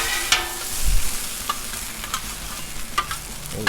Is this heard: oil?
yes